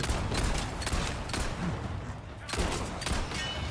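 Gunfire from the Resident Evil 4 Remake video game as enemies are shot, a dense run of loud, rapid shots with short bursts lasting throughout, while a voice speaks over it.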